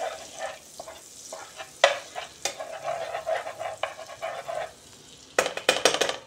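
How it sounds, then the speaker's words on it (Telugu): Butter frying in a pan for paneer butter matar masala, with soft crackling sizzle, a few sharp utensil clicks and scrapes, then a burst of louder spattering near the end. "బటర్ బాగా వేగిందండి."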